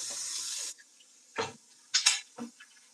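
Rice being washed in a kitchen sink: a steady rush of running tap water, then a few short splashes and sloshes as the grains are swirled, close and moderately loud with no talking.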